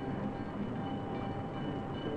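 A train running on the Ford Rouge factory's private railroad, rumbling steadily and loudly with dense rolling rail noise throughout, no voices.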